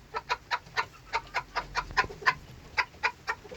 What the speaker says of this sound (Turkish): Evet bakın horoz çağırıyor.